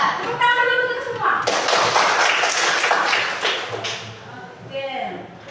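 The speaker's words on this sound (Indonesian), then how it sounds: "Tepuk tangan dulu untuk semua." Children in a classroom clap briefly at their teacher's prompt, a short burst of mixed taps and thuds, with the teacher and kids talking before and after the clapping.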